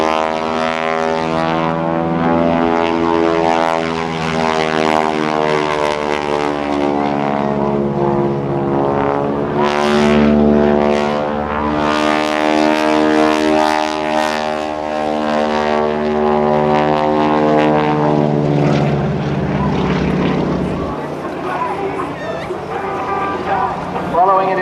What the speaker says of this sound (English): the colorful and entertaining show plane you see today with a 450 horsepower Pratt & Whitney engine